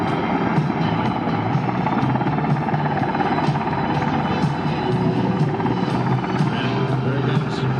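UH-60 helicopter flying over an airshow crowd, a loud continuous rotor thrum and turbine whine holding steady throughout, with no break in the sound.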